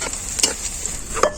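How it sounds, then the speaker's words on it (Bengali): Onions fry in oil with a soft, steady sizzle, and a couple of brief utensil scrapes and taps against the pan land close by, with no talking. "পেঁয়াজটা ভাজা হয়ে গেছে"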